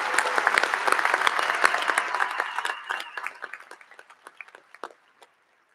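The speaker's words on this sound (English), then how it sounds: "Please join me in one last round of applause for all the students receiving master's degrees and graduate certificates." Audience applause at an LSU business graduation commencement, a dense burst of many hands clapping that thins out over the last two seconds into scattered claps before falling silent.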